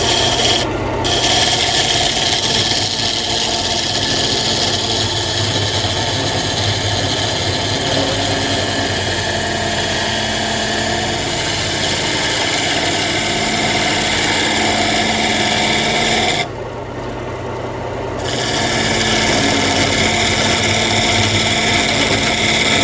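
Sandpaper rubs steadily against a spinning wooden bowl on a woodturning lathe, a loud continuous rasp over the motor hum with one brief lift near the end, and no talking.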